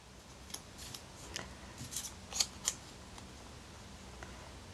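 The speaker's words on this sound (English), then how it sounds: "I am just simply going to cut out a heart shape from my Inchie strip there." Small, crisp scissor snips cutting a heart shape from a narrow paper strip, a handful of quiet, close clicks spaced irregularly, louder near the end, with no talking.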